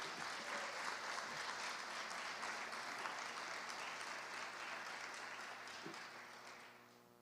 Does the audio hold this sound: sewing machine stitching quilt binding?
no